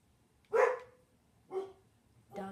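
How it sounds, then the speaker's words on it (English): A dog barks three times in short, separate bursts, the first loudest, in an otherwise quiet room. "Dog just scared the crap out of me"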